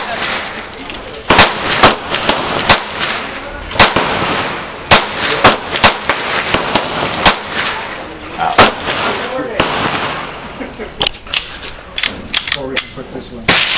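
Sig Sauer Mosquito .22 pistol fired repeatedly, sharp close cracks spaced irregularly in quick strings with short pauses between bursts, over background noise and occasional voices.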